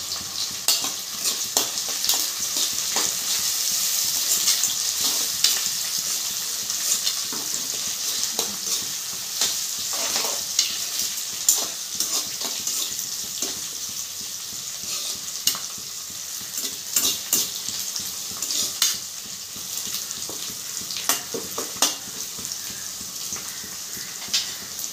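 Curry leaves crackle in hot oil for a cauliflower, butter bean and prawn curry, a steady close sizzle broken by repeated scraping stirs and occasional pops, with no voices.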